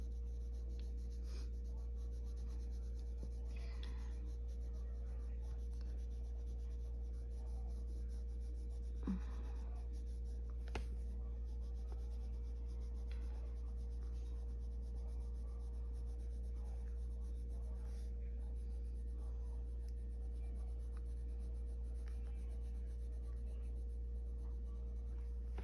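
A colored pencil rubs steadily across paper, layered over water-soluble wax pastel in an animal coloring book. The soft scratching continues for nearly half a minute beneath a constant low hum.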